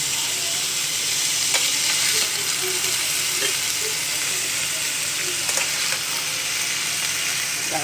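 Dried red chilies and five-spice seeds (panch phoron) tempering in hot oil produce a dense, steady hiss and crackle, loud and close, with faint scattered pops and no speech.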